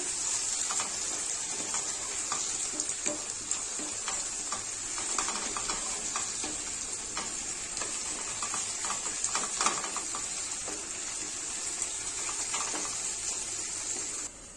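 Onions frying in a pan while a capsicum chicken dish is being prepared, giving a steady, close crackling sizzle with scattered stirring scrapes throughout and no voices.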